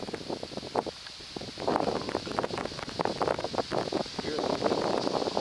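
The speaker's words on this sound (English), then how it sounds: "Hear the wind." Autumn wind gusting through fall leaves in Nova Scotia, heard as a continuous, close, blustery whoosh with buffeting against the microphone and a busy rustle that swells louder toward the end.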